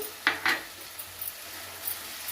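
Bottle gourd curry is stirred in a pan: a few sharp scraping clacks of a spoon against the metal, then softer scattered stirring over a faint sizzle.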